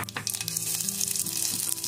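Steady, loud sizzling of ground peas frying with cumin in a pan over a medium flame, with a continuous crackling hiss and faint stirring, no voices.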